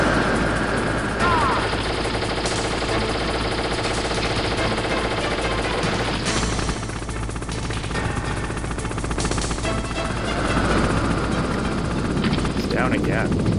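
A helicopter hovers loudly overhead in the Metal Gear Solid video game, its rotor roar constant while bursts of machine-gun fire rattle through, with a voice talking over the din.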